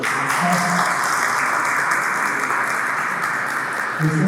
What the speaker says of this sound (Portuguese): peço que a receba com uma salva de palmas